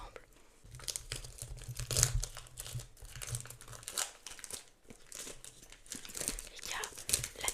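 A Pokémon Mega Evolution booster pack wrapper being torn open and handled, with close crinkling and crackling foil bursts in an uneven rhythm and soft murmured speech underneath.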